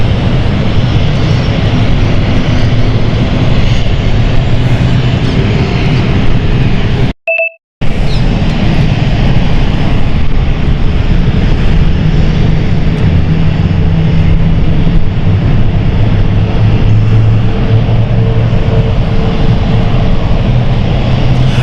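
An airliner departing London City Airport roars loudly and steadily for the whole stretch, a constant broad engine rush broken only by a brief gap with a couple of beeps.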